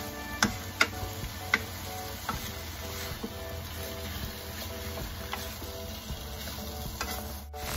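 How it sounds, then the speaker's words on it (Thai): Pork and vegetables being stir-fried over medium heat for Japanese curry rice, a low even sizzle with light rhythmic ticks and taps of a spatula against the pan. "ใส่เนื้อหมูและผักที่เตรียมไว้ลงไปผัดใช้ไฟแรงปานกลางนะคะ"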